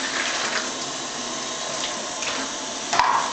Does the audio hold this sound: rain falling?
no